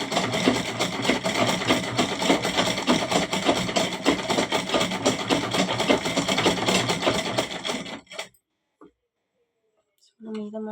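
A sewing machine runs in a fast, steady, close mechanical rattle while stitching a folded pillow cover, then stops abruptly after about eight seconds, leaving near silence before a brief sound.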